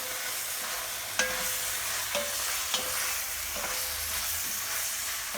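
Curry powder and spices being stirred in a pan for a vegan curry, a soft steady sizzle with a few sharp scrapes of the utensil against the pan, no talking.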